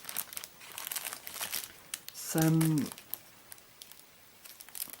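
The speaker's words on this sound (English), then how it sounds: "sorry for the rustling" Crinkling rustle of paper packaging around decorative decoupage paper and postcards, a short loud burst in the middle of the clip with soft rustling around it while someone talks.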